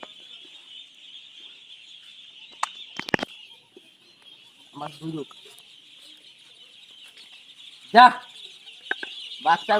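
A group of ducklings waiting to be fed peeps in a constant high chorus, broken by a few louder clucking bursts and brief snatches of a person's voice.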